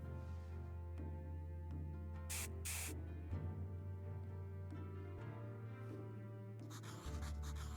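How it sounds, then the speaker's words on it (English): Two brief, bright hissing bursts of a tincture being sprayed into the eyes in Graveyard Keeper, standing out over steady low game music. "And now to spray in both eyes."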